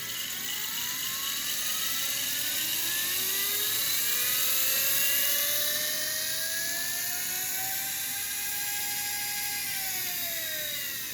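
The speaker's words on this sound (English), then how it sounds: "All the way back to our original rotating mirror here, which I'll turn on now just to you can hear how it sounds" A motorized rotating mirror in a laser setup spins up toward about 800 RPM, giving a steady whirring whine whose pitch climbs gradually, moderately loud and continuous throughout, with no talking.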